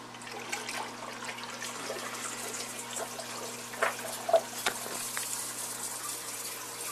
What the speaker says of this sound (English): the water is flowing onto the back side of the box here, flowing down into the tube, down into our sump